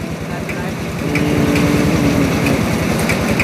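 A borrowed farm tractor's engine chugs steadily at a rural groundwater well-drilling site, its rapid low pulses running loud and close throughout.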